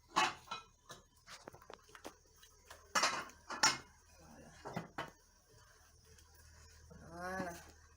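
A metal cooking pot is set into place for boiling onions in a Cameroonian kitchen, with several close clanks and knocks of cookware scattered across the moment and a brief animal-like bleat near the end.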